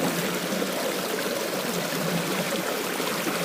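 Stream water rushes and trickles steadily as a banjo pan is rinsed while panning for gold in a Vermont stream, a close, continuous broadband wash without talk.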